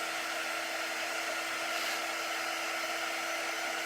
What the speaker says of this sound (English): I'm going to dry this with my quick dry tool just to make sure it's really dry